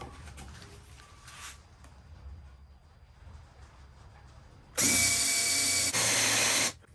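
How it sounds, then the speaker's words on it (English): An electric drill whirs up to fast RPM and bores through a wood veneer layer, a loud sustained high-pitched whine lasting about two seconds after quieter background noise. "I let the drill spin up a fast RPM, and I lightly go in to break through that veneer layer"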